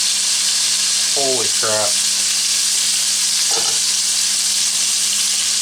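Tri tip searing in a cast iron Dutch oven as it is turned: a loud, continuous close-up sizzle that runs throughout, while someone speaks briefly over it.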